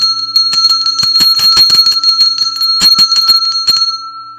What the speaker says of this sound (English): Let the sound of our sacral chakra bell